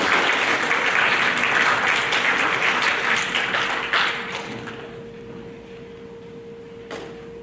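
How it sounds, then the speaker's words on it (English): Audience clapping at a seventh-grade school awards program, loud and dense for about four seconds, then thinning to scattered claps and fading quieter, with a faint steady hum underneath. "a round of applause for our college and career academic coordinators."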